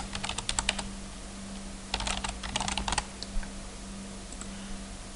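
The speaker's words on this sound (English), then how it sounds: "so I just got to type in the password." Bursts of rapid keystrokes on a computer keyboard as a password is typed into Lotus Notes, with short clusters of clicks, pauses between them, and a steady low hum behind.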